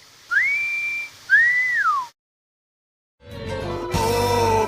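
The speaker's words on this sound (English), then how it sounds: "You know how to whistle, don't you" A person whistles two clear, sustained notes, the second curving up and then sliding down. A short silence follows, then a burst of busier, music-like sound.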